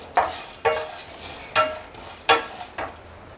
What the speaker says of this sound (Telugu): వీటన్నిటిని వేసుకొని మంచిగా అలా వేడి చేసుకోవాలి అంతే